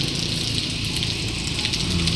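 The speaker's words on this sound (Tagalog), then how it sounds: "Hindi ako makaalis dahil yan, sobrang ulan." Dense, steady hiss of heavy rain drumming on a surface close by, constant and loud with no pauses or voices.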